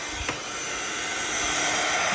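A dryer blows a steady, loud rush of air over a wet mixed media board, the noise holding constant throughout with one brief bump near the start.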